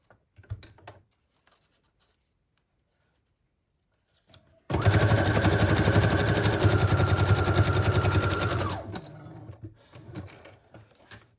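A sewing machine stitches paper scrap strips into junk journal embellishments, starting abruptly after near-silence and running in a loud, fast, steady whir for about four seconds before stopping.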